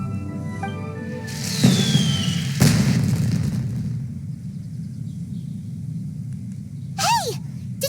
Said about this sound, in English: Did you hear that explosion?